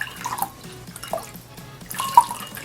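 Sparse water drips and small splashes from wetting earbuds with a towel, a few soft irregular plinks close by over quiet background, with one sharper drop near the end.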